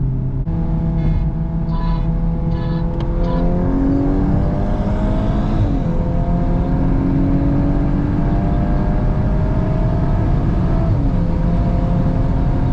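Hyundai Elantra N and Volkswagen Golf R accelerating in a drag race, a loud, steady engine roar with rising and shifting tones that climbs through gears for the whole stretch, with no talk.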